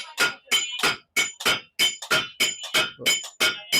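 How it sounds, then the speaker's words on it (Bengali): A blacksmith's hammer strikes red-hot iron about a dozen times in a fast, steady rhythm, each blow sharp and ringing, close and loud, at a village market forge. "এই হাতুড়ির বাড়ির তালে তালে এই জিনিসটা একটা হয়ে যায়"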